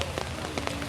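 Rain falling on an outdoor cattle market at Chom Phu Butr in Roi Et, Thailand, a steady close patter of drops pattering on surfaces with no voices.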